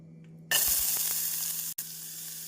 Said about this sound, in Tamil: நாம் கடாயில் இந்த அளவு எண்ணெய் ஊற்றி வெங்காயத்தை போட்டு வதக்கி விடலாம்